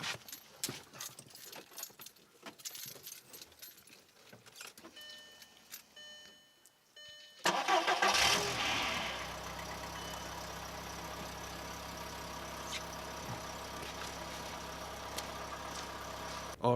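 A car engine cranks and starts after some clicking and key jangling, then settles into a steady, close idle hum that continues to the end.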